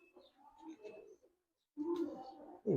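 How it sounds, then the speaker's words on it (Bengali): Shahranpuri pigeons of a Pakistani line coo nearby in two short bouts with a gap between them, and a louder burst ends the sequence. "এটা কি কবুতর এটা হচ্ছে শাহরানপুরি"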